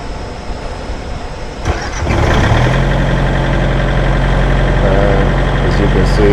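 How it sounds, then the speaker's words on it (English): A truck engine cranks and catches at about two seconds, then settles into a loud, steady low idle that continues to the end, with a faint voice over it. "Alright, the engine is starting."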